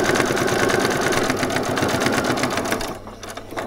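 A sewing machine runs steadily, stitching a back stitch on a frilled top with a fast, even mechanical whir that stops abruptly near the end, leaving a quieter hum.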